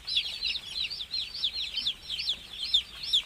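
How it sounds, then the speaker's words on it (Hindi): Chicks on a poultry farm in winter, peeping and chirping in a rapid, continuous chatter of short high calls, close and lively with no talk. "देख सकते हैं मेरा चूजा सब"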